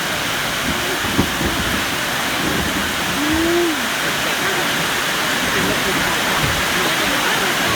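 Heavy rain pours down in a loud, constant hiss, with a voice briefly heard beneath the downpour.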